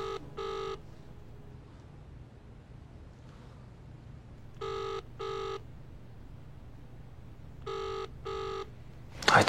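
A telephone rings in a repeating double-burst pattern, three pairs of electronic trills spaced a few seconds apart, fairly close, over a quiet low hum, with a brief rustle at the very end.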